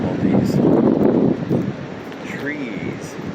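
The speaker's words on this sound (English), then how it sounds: "Never been out here in the middle of a windstorm." Strong windstorm gusts rushing through trees beside a swollen river in Piqua, Ohio, a loud steady roar with microphone buffeting that eases slightly, plus a faint distant chirp.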